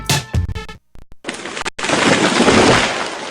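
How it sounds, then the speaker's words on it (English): A falling tree sound effect in a radio ad, with creaking and snapping cracks that lead into a loud, sustained crashing rush of branches and debris. "That was the sound of a tree falling."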